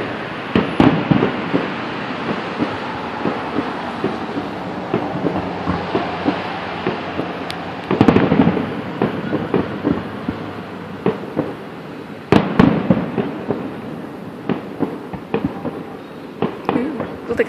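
Fourth of July fireworks bursting outdoors near trees, a series of sharp booms and crackles at irregular intervals, some near and loud, others more distant, with people talking between the bangs.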